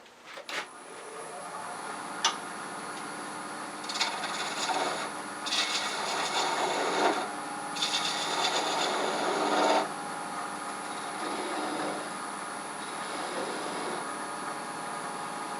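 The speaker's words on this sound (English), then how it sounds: "then we're going to finish sanding it" Sandpaper rubbing against a spinning wooden turning piece held on a mandrel on a lathe, a steady raspy scratching in repeated passes of several seconds each over the continuous lathe hum, close and fairly loud, with no talking.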